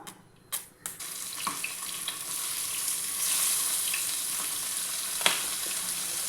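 Fish slides into hot sunflower oil and sets off a steady, close sizzle and crackle after a few sharp knocks at the start, the frying hiss holding evenly throughout.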